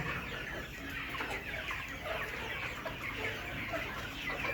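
Layer hens in a poultry shed cluck continuously at a moderate, fairly close level, with many overlapping birds and no talking.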